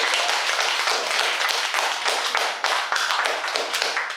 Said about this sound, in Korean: 박수 보내주시다